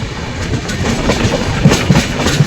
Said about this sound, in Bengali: প্রচুর স্পিডে ছুটছে ট্রেন